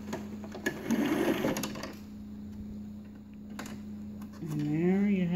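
A sewing machine stitches a fabric scrunchie in a short, steady burst. Quieter handling noises follow, and a voice speaks over the end.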